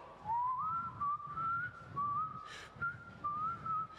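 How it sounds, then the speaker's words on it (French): Someone whistles a simple tune alone in short, clear phrases with brief pauses between them, close and fairly loud. "si tu arrives en sifflotant"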